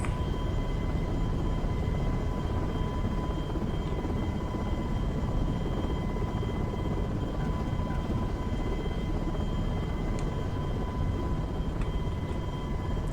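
Aircraft landing in the Prepar3D v3 flight simulator game gives a steady, loud, unbroken engine drone with a faint high whine, continuous throughout with no talking.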